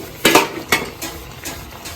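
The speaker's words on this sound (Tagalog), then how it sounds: "Kasi didikit yan sa ilalim ng kawali. Go! Yan, so medyo gagalaw-galawin yung ilalim ha" Laing being stirred in a wok to keep it from sticking gives close metallic scrapes and clinks of a utensil against the pan, in uneven strokes over a low sizzle.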